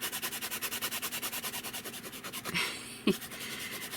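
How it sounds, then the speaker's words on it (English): Leather being burnished down over an embossed cover, a quiet close rhythmic rubbing that repeats steadily, with a brief scuff partway through. "then we're going to burnish that down really well"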